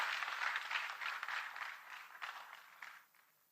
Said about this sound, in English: This time we give him a round of applause